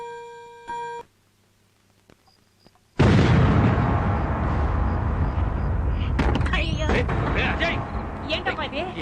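A sudden loud bomb blast at a police station, a heavy boom that cuts in after a brief quiet and rumbles on for several seconds, with sharp crackling bursts near the end.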